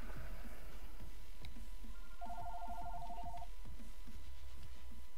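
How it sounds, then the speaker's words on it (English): A telephone rings in the background during a modded Fallout: New Vegas play session, a short run of rapid electronic trill pulses lasting about a second, faint beneath a low steady hum. "Phone is ringing and waiting for somebody to pick it up."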